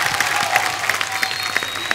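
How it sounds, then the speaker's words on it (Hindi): Brief, dense applause from a television comedy show studio audience, steady and fairly loud throughout. "जोरदार तालियां हो जाए एक बार हमारे तीनों मेहमानों के लिए"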